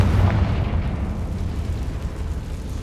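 A Confringo blasting spell explodes in a video game as a loud, rumbling boom that stays dense and slowly fades over a few seconds.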